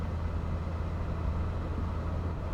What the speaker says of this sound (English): You get a nice sound from that straight six.